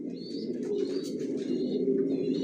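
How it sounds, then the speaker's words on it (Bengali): Racing pigeons of Johnson Maxi racer stock coo in a dense, continuous chorus inside a loft, a steady low murmur layered with faint chirps throughout. "কোয়ালিটি সম্পন্ন কবুতর পালি"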